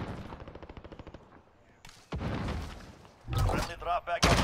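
Gunfire in a Call of Duty Warzone battle royale match: a fast rattling burst of automatic fire, a pause, then heavier bursts and sharp shotgun-like blasts, with talking mixed in.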